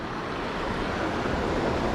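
Rushing water at a waterfall on a river, fished for spotted and shoal bass, fills the scene as a steady, loud broadband roar with no break and no voices.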